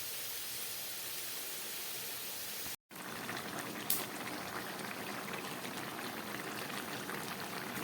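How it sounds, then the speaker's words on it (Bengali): Raw jackfruit and potato curry bubbles steadily in a pot, a soft continuous broadband simmer with one brief dropout and a faint click, quiet and close. "এঁচড় আলুটা ফুটে উঠেছে।"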